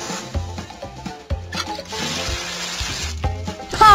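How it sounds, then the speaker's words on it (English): Water is pumped and sprayed over piles of corn in a PAW Patrol corn roast video game, a rushing, splashing stream heard alongside bouncy game music and short thumping notes. "Pump the water so I can spray the corn over the number 8."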